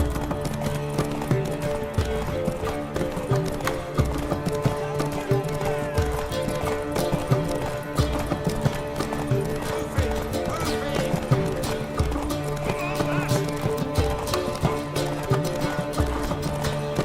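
Horse hooves clip-clop at a steady trot in The Witcher III cutscene, the rhythmic clopping running steadily under a swelling orchestral score.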